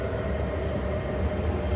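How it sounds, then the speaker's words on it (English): A train rolls through Tsing Yi Station with a loud, continuous rumble and a steady mechanical hum that holds level throughout, with no voices over it. "I just saw a train drive down."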